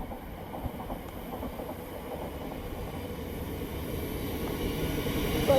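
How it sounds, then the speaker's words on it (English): A Thameslink train from St Albans to Sutton pulls into West Hampstead station with a faint, low rolling rumble and light rhythmic wheel clatter that slowly grows louder. "Coming in now is a Thameslink service from St Albans to Sutton."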